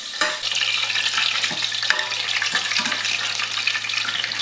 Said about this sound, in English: I'm just going to cook these off until they're quite golden and nice.